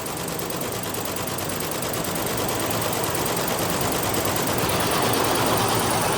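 A computerised design machine running in a workshop: a loud, steady, dense mechanical whirring and rapid rattling that continues without a break.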